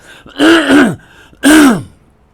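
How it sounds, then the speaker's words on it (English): A person clears their throat loudly and close up, two rough guttural bursts with a short pause between them. "Let me clear my throat."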